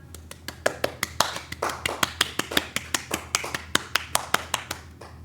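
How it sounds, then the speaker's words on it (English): A single pair of hands claps close by in a quick, even rhythm, about thirty sharp claps in a row with a low hum underneath and no talking. "Okay, everybody clap."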